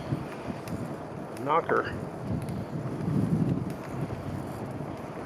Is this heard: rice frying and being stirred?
no